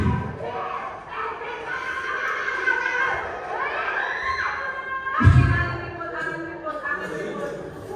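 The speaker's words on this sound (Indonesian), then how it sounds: "Berteriak dulu nih." Grade 7 students in a classroom shout together in a loud, excited burst of mixed young voices, with a heavy thump near the middle and continued chatter around it.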